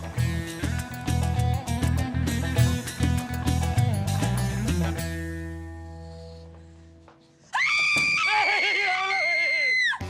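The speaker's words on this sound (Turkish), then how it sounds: "Evet biri çığlık atıyor galiba. Üst kattan geliyor." Loud, shrill screaming comes from upstairs, rising and wavering, then cuts off, and a second harsh, strained scream follows near the end. No words are spoken over it.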